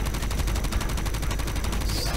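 An electric beam cannon, the Tezzik, fires in Borderlands 3 as a steady, rapidly pulsing buzz that holds at an even level for about two seconds.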